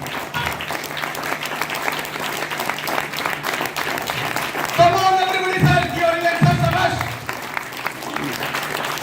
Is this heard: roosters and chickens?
no